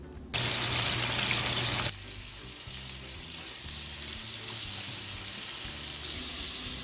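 Large prawns dropped into hot oil give a loud, hissing sizzle that bursts in, holds for about a second and a half, then settles into a quieter, steady frying crackle.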